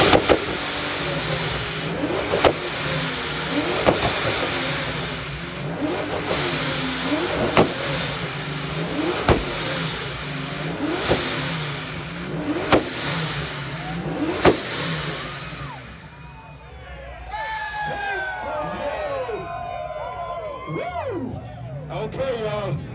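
At an exhaust competition, a car's exhaust revs in repeated sharp bursts over a loud crowd, with people shouting and cheering before the engine drops away near the end.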